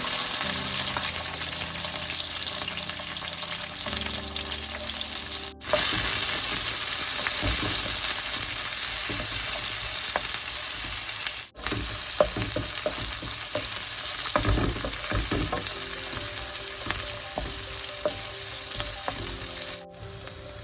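Onions and green chilies sauté in oil with fenugreek and curry leaves for a Sri Lankan style sambar, giving a steady close sizzle with occasional stirring clatter and short gaps, and no talking.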